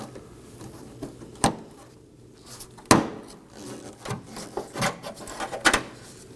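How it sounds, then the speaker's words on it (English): Plastic trim tabs being pried loose with a trim tool from the rear liftgate camera and handle assembly of a 2018-2024 Chevrolet Equinox, giving several sharp snaps and scraping rubs spread through a quiet stretch with no talk. "I'm going to use a trim tool along both edges to just pry it out."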